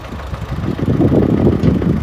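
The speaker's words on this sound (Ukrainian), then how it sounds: "сюди під горку в той бік знову ж дуже м'яко трактор буксує" An MTZ-80 tractor engine labouring during field cultivation for soybeans, a steady low rumbling drone with the wheels slipping on soft ground, close and fairly loud, with no talk.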